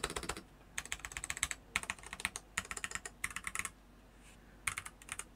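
Typing on a Dierya T83 mechanical keyboard, a Feker IK75 clone fitted with cheap pudding keycaps and no plate, comes through as bursts of quick clacky keystrokes separated by short pauses, close and fairly quiet.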